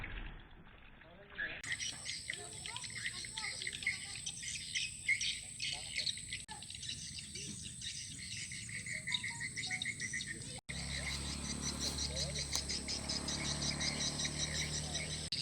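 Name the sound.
swiftlets chirping near nesting house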